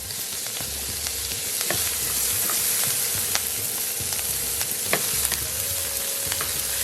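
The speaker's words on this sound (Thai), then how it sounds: "ผัดนะครับให้หอมใหญ่ นิ่มลงครับ" Onions stir-frying in hot oil for vegetable biryani, with a loud, steady sizzle close by and occasional sharp clacks of a utensil against the pan.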